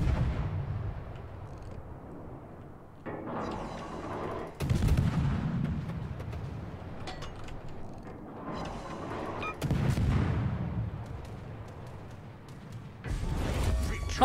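Heavy naval guns from a World of Warships battle fire in four big booming salvos spaced several seconds apart, each rolling out into a long rumbling tail, with faint background game sound between them.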